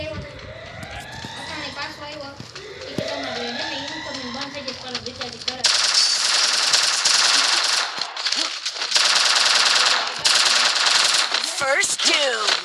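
Rapid automatic gunfire crackles in a battle royale video game, starting around the middle and continuing in loud dense bursts with short gaps, after an earlier stretch of game noise under a speaking voice.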